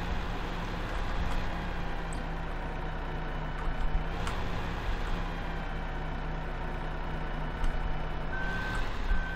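A truck in Farming Simulator 15 backs up with a steady run of reversing beeps over a constant engine drone, with no talk.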